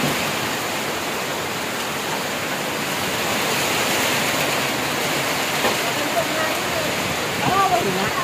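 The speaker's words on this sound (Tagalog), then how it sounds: "Binabayo na tayo ng bagyo." Typhoon Uwan battering a house with wind and rain, a dense, loud, unbroken roar of rushing air and pouring water, with faint voices talking under it near the end.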